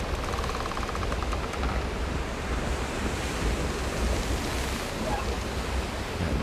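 Ocean waves in the video game The Isle, a continuous broad wash of surf mixed with wind rushing, steady and fairly loud with no voices.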